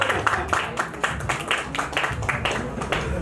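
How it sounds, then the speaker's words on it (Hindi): An audience at a stage event with a Bollywood singer and a bhajan singer breaks into brief, steady applause, a dense patter of many hands clapping together for about three seconds. "थोड़ी सी तालियां"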